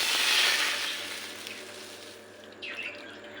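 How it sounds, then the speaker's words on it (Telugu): Two cups of water pour in a steady, hissing stream close by into a pan for semiya kesari, then taper off, with no talking. "ఈ కప్పు తీసుకున్నానండి సేమియా దీంతో రెండు కప్పులు వాటర్ పోసుకోవాలి"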